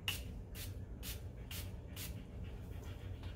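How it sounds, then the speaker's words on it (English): Five short, soft hissing bursts of e.l.f. Hydrating Coconut Mist facial spray, evenly spaced about half a second apart, close and quiet with no talking. "We're gonna do that with the e.l.f. Hydrating Coconut Mist."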